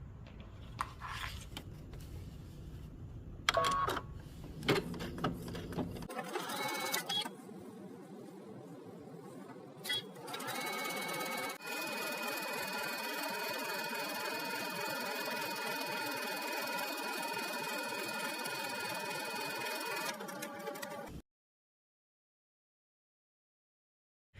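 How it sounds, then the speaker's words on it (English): Sewing machine stitching a 3/8-inch seam along the long edge and end of fabric ties: a steady, close mechanical whir running continuously for about ten seconds, preceded by handling noises and a brief start-up, then stopping abruptly. "we're going to take it to the machine and we're going to stitch the long edge and the unmarked end in a 3/8 of an inch seam"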